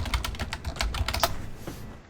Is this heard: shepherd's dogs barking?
no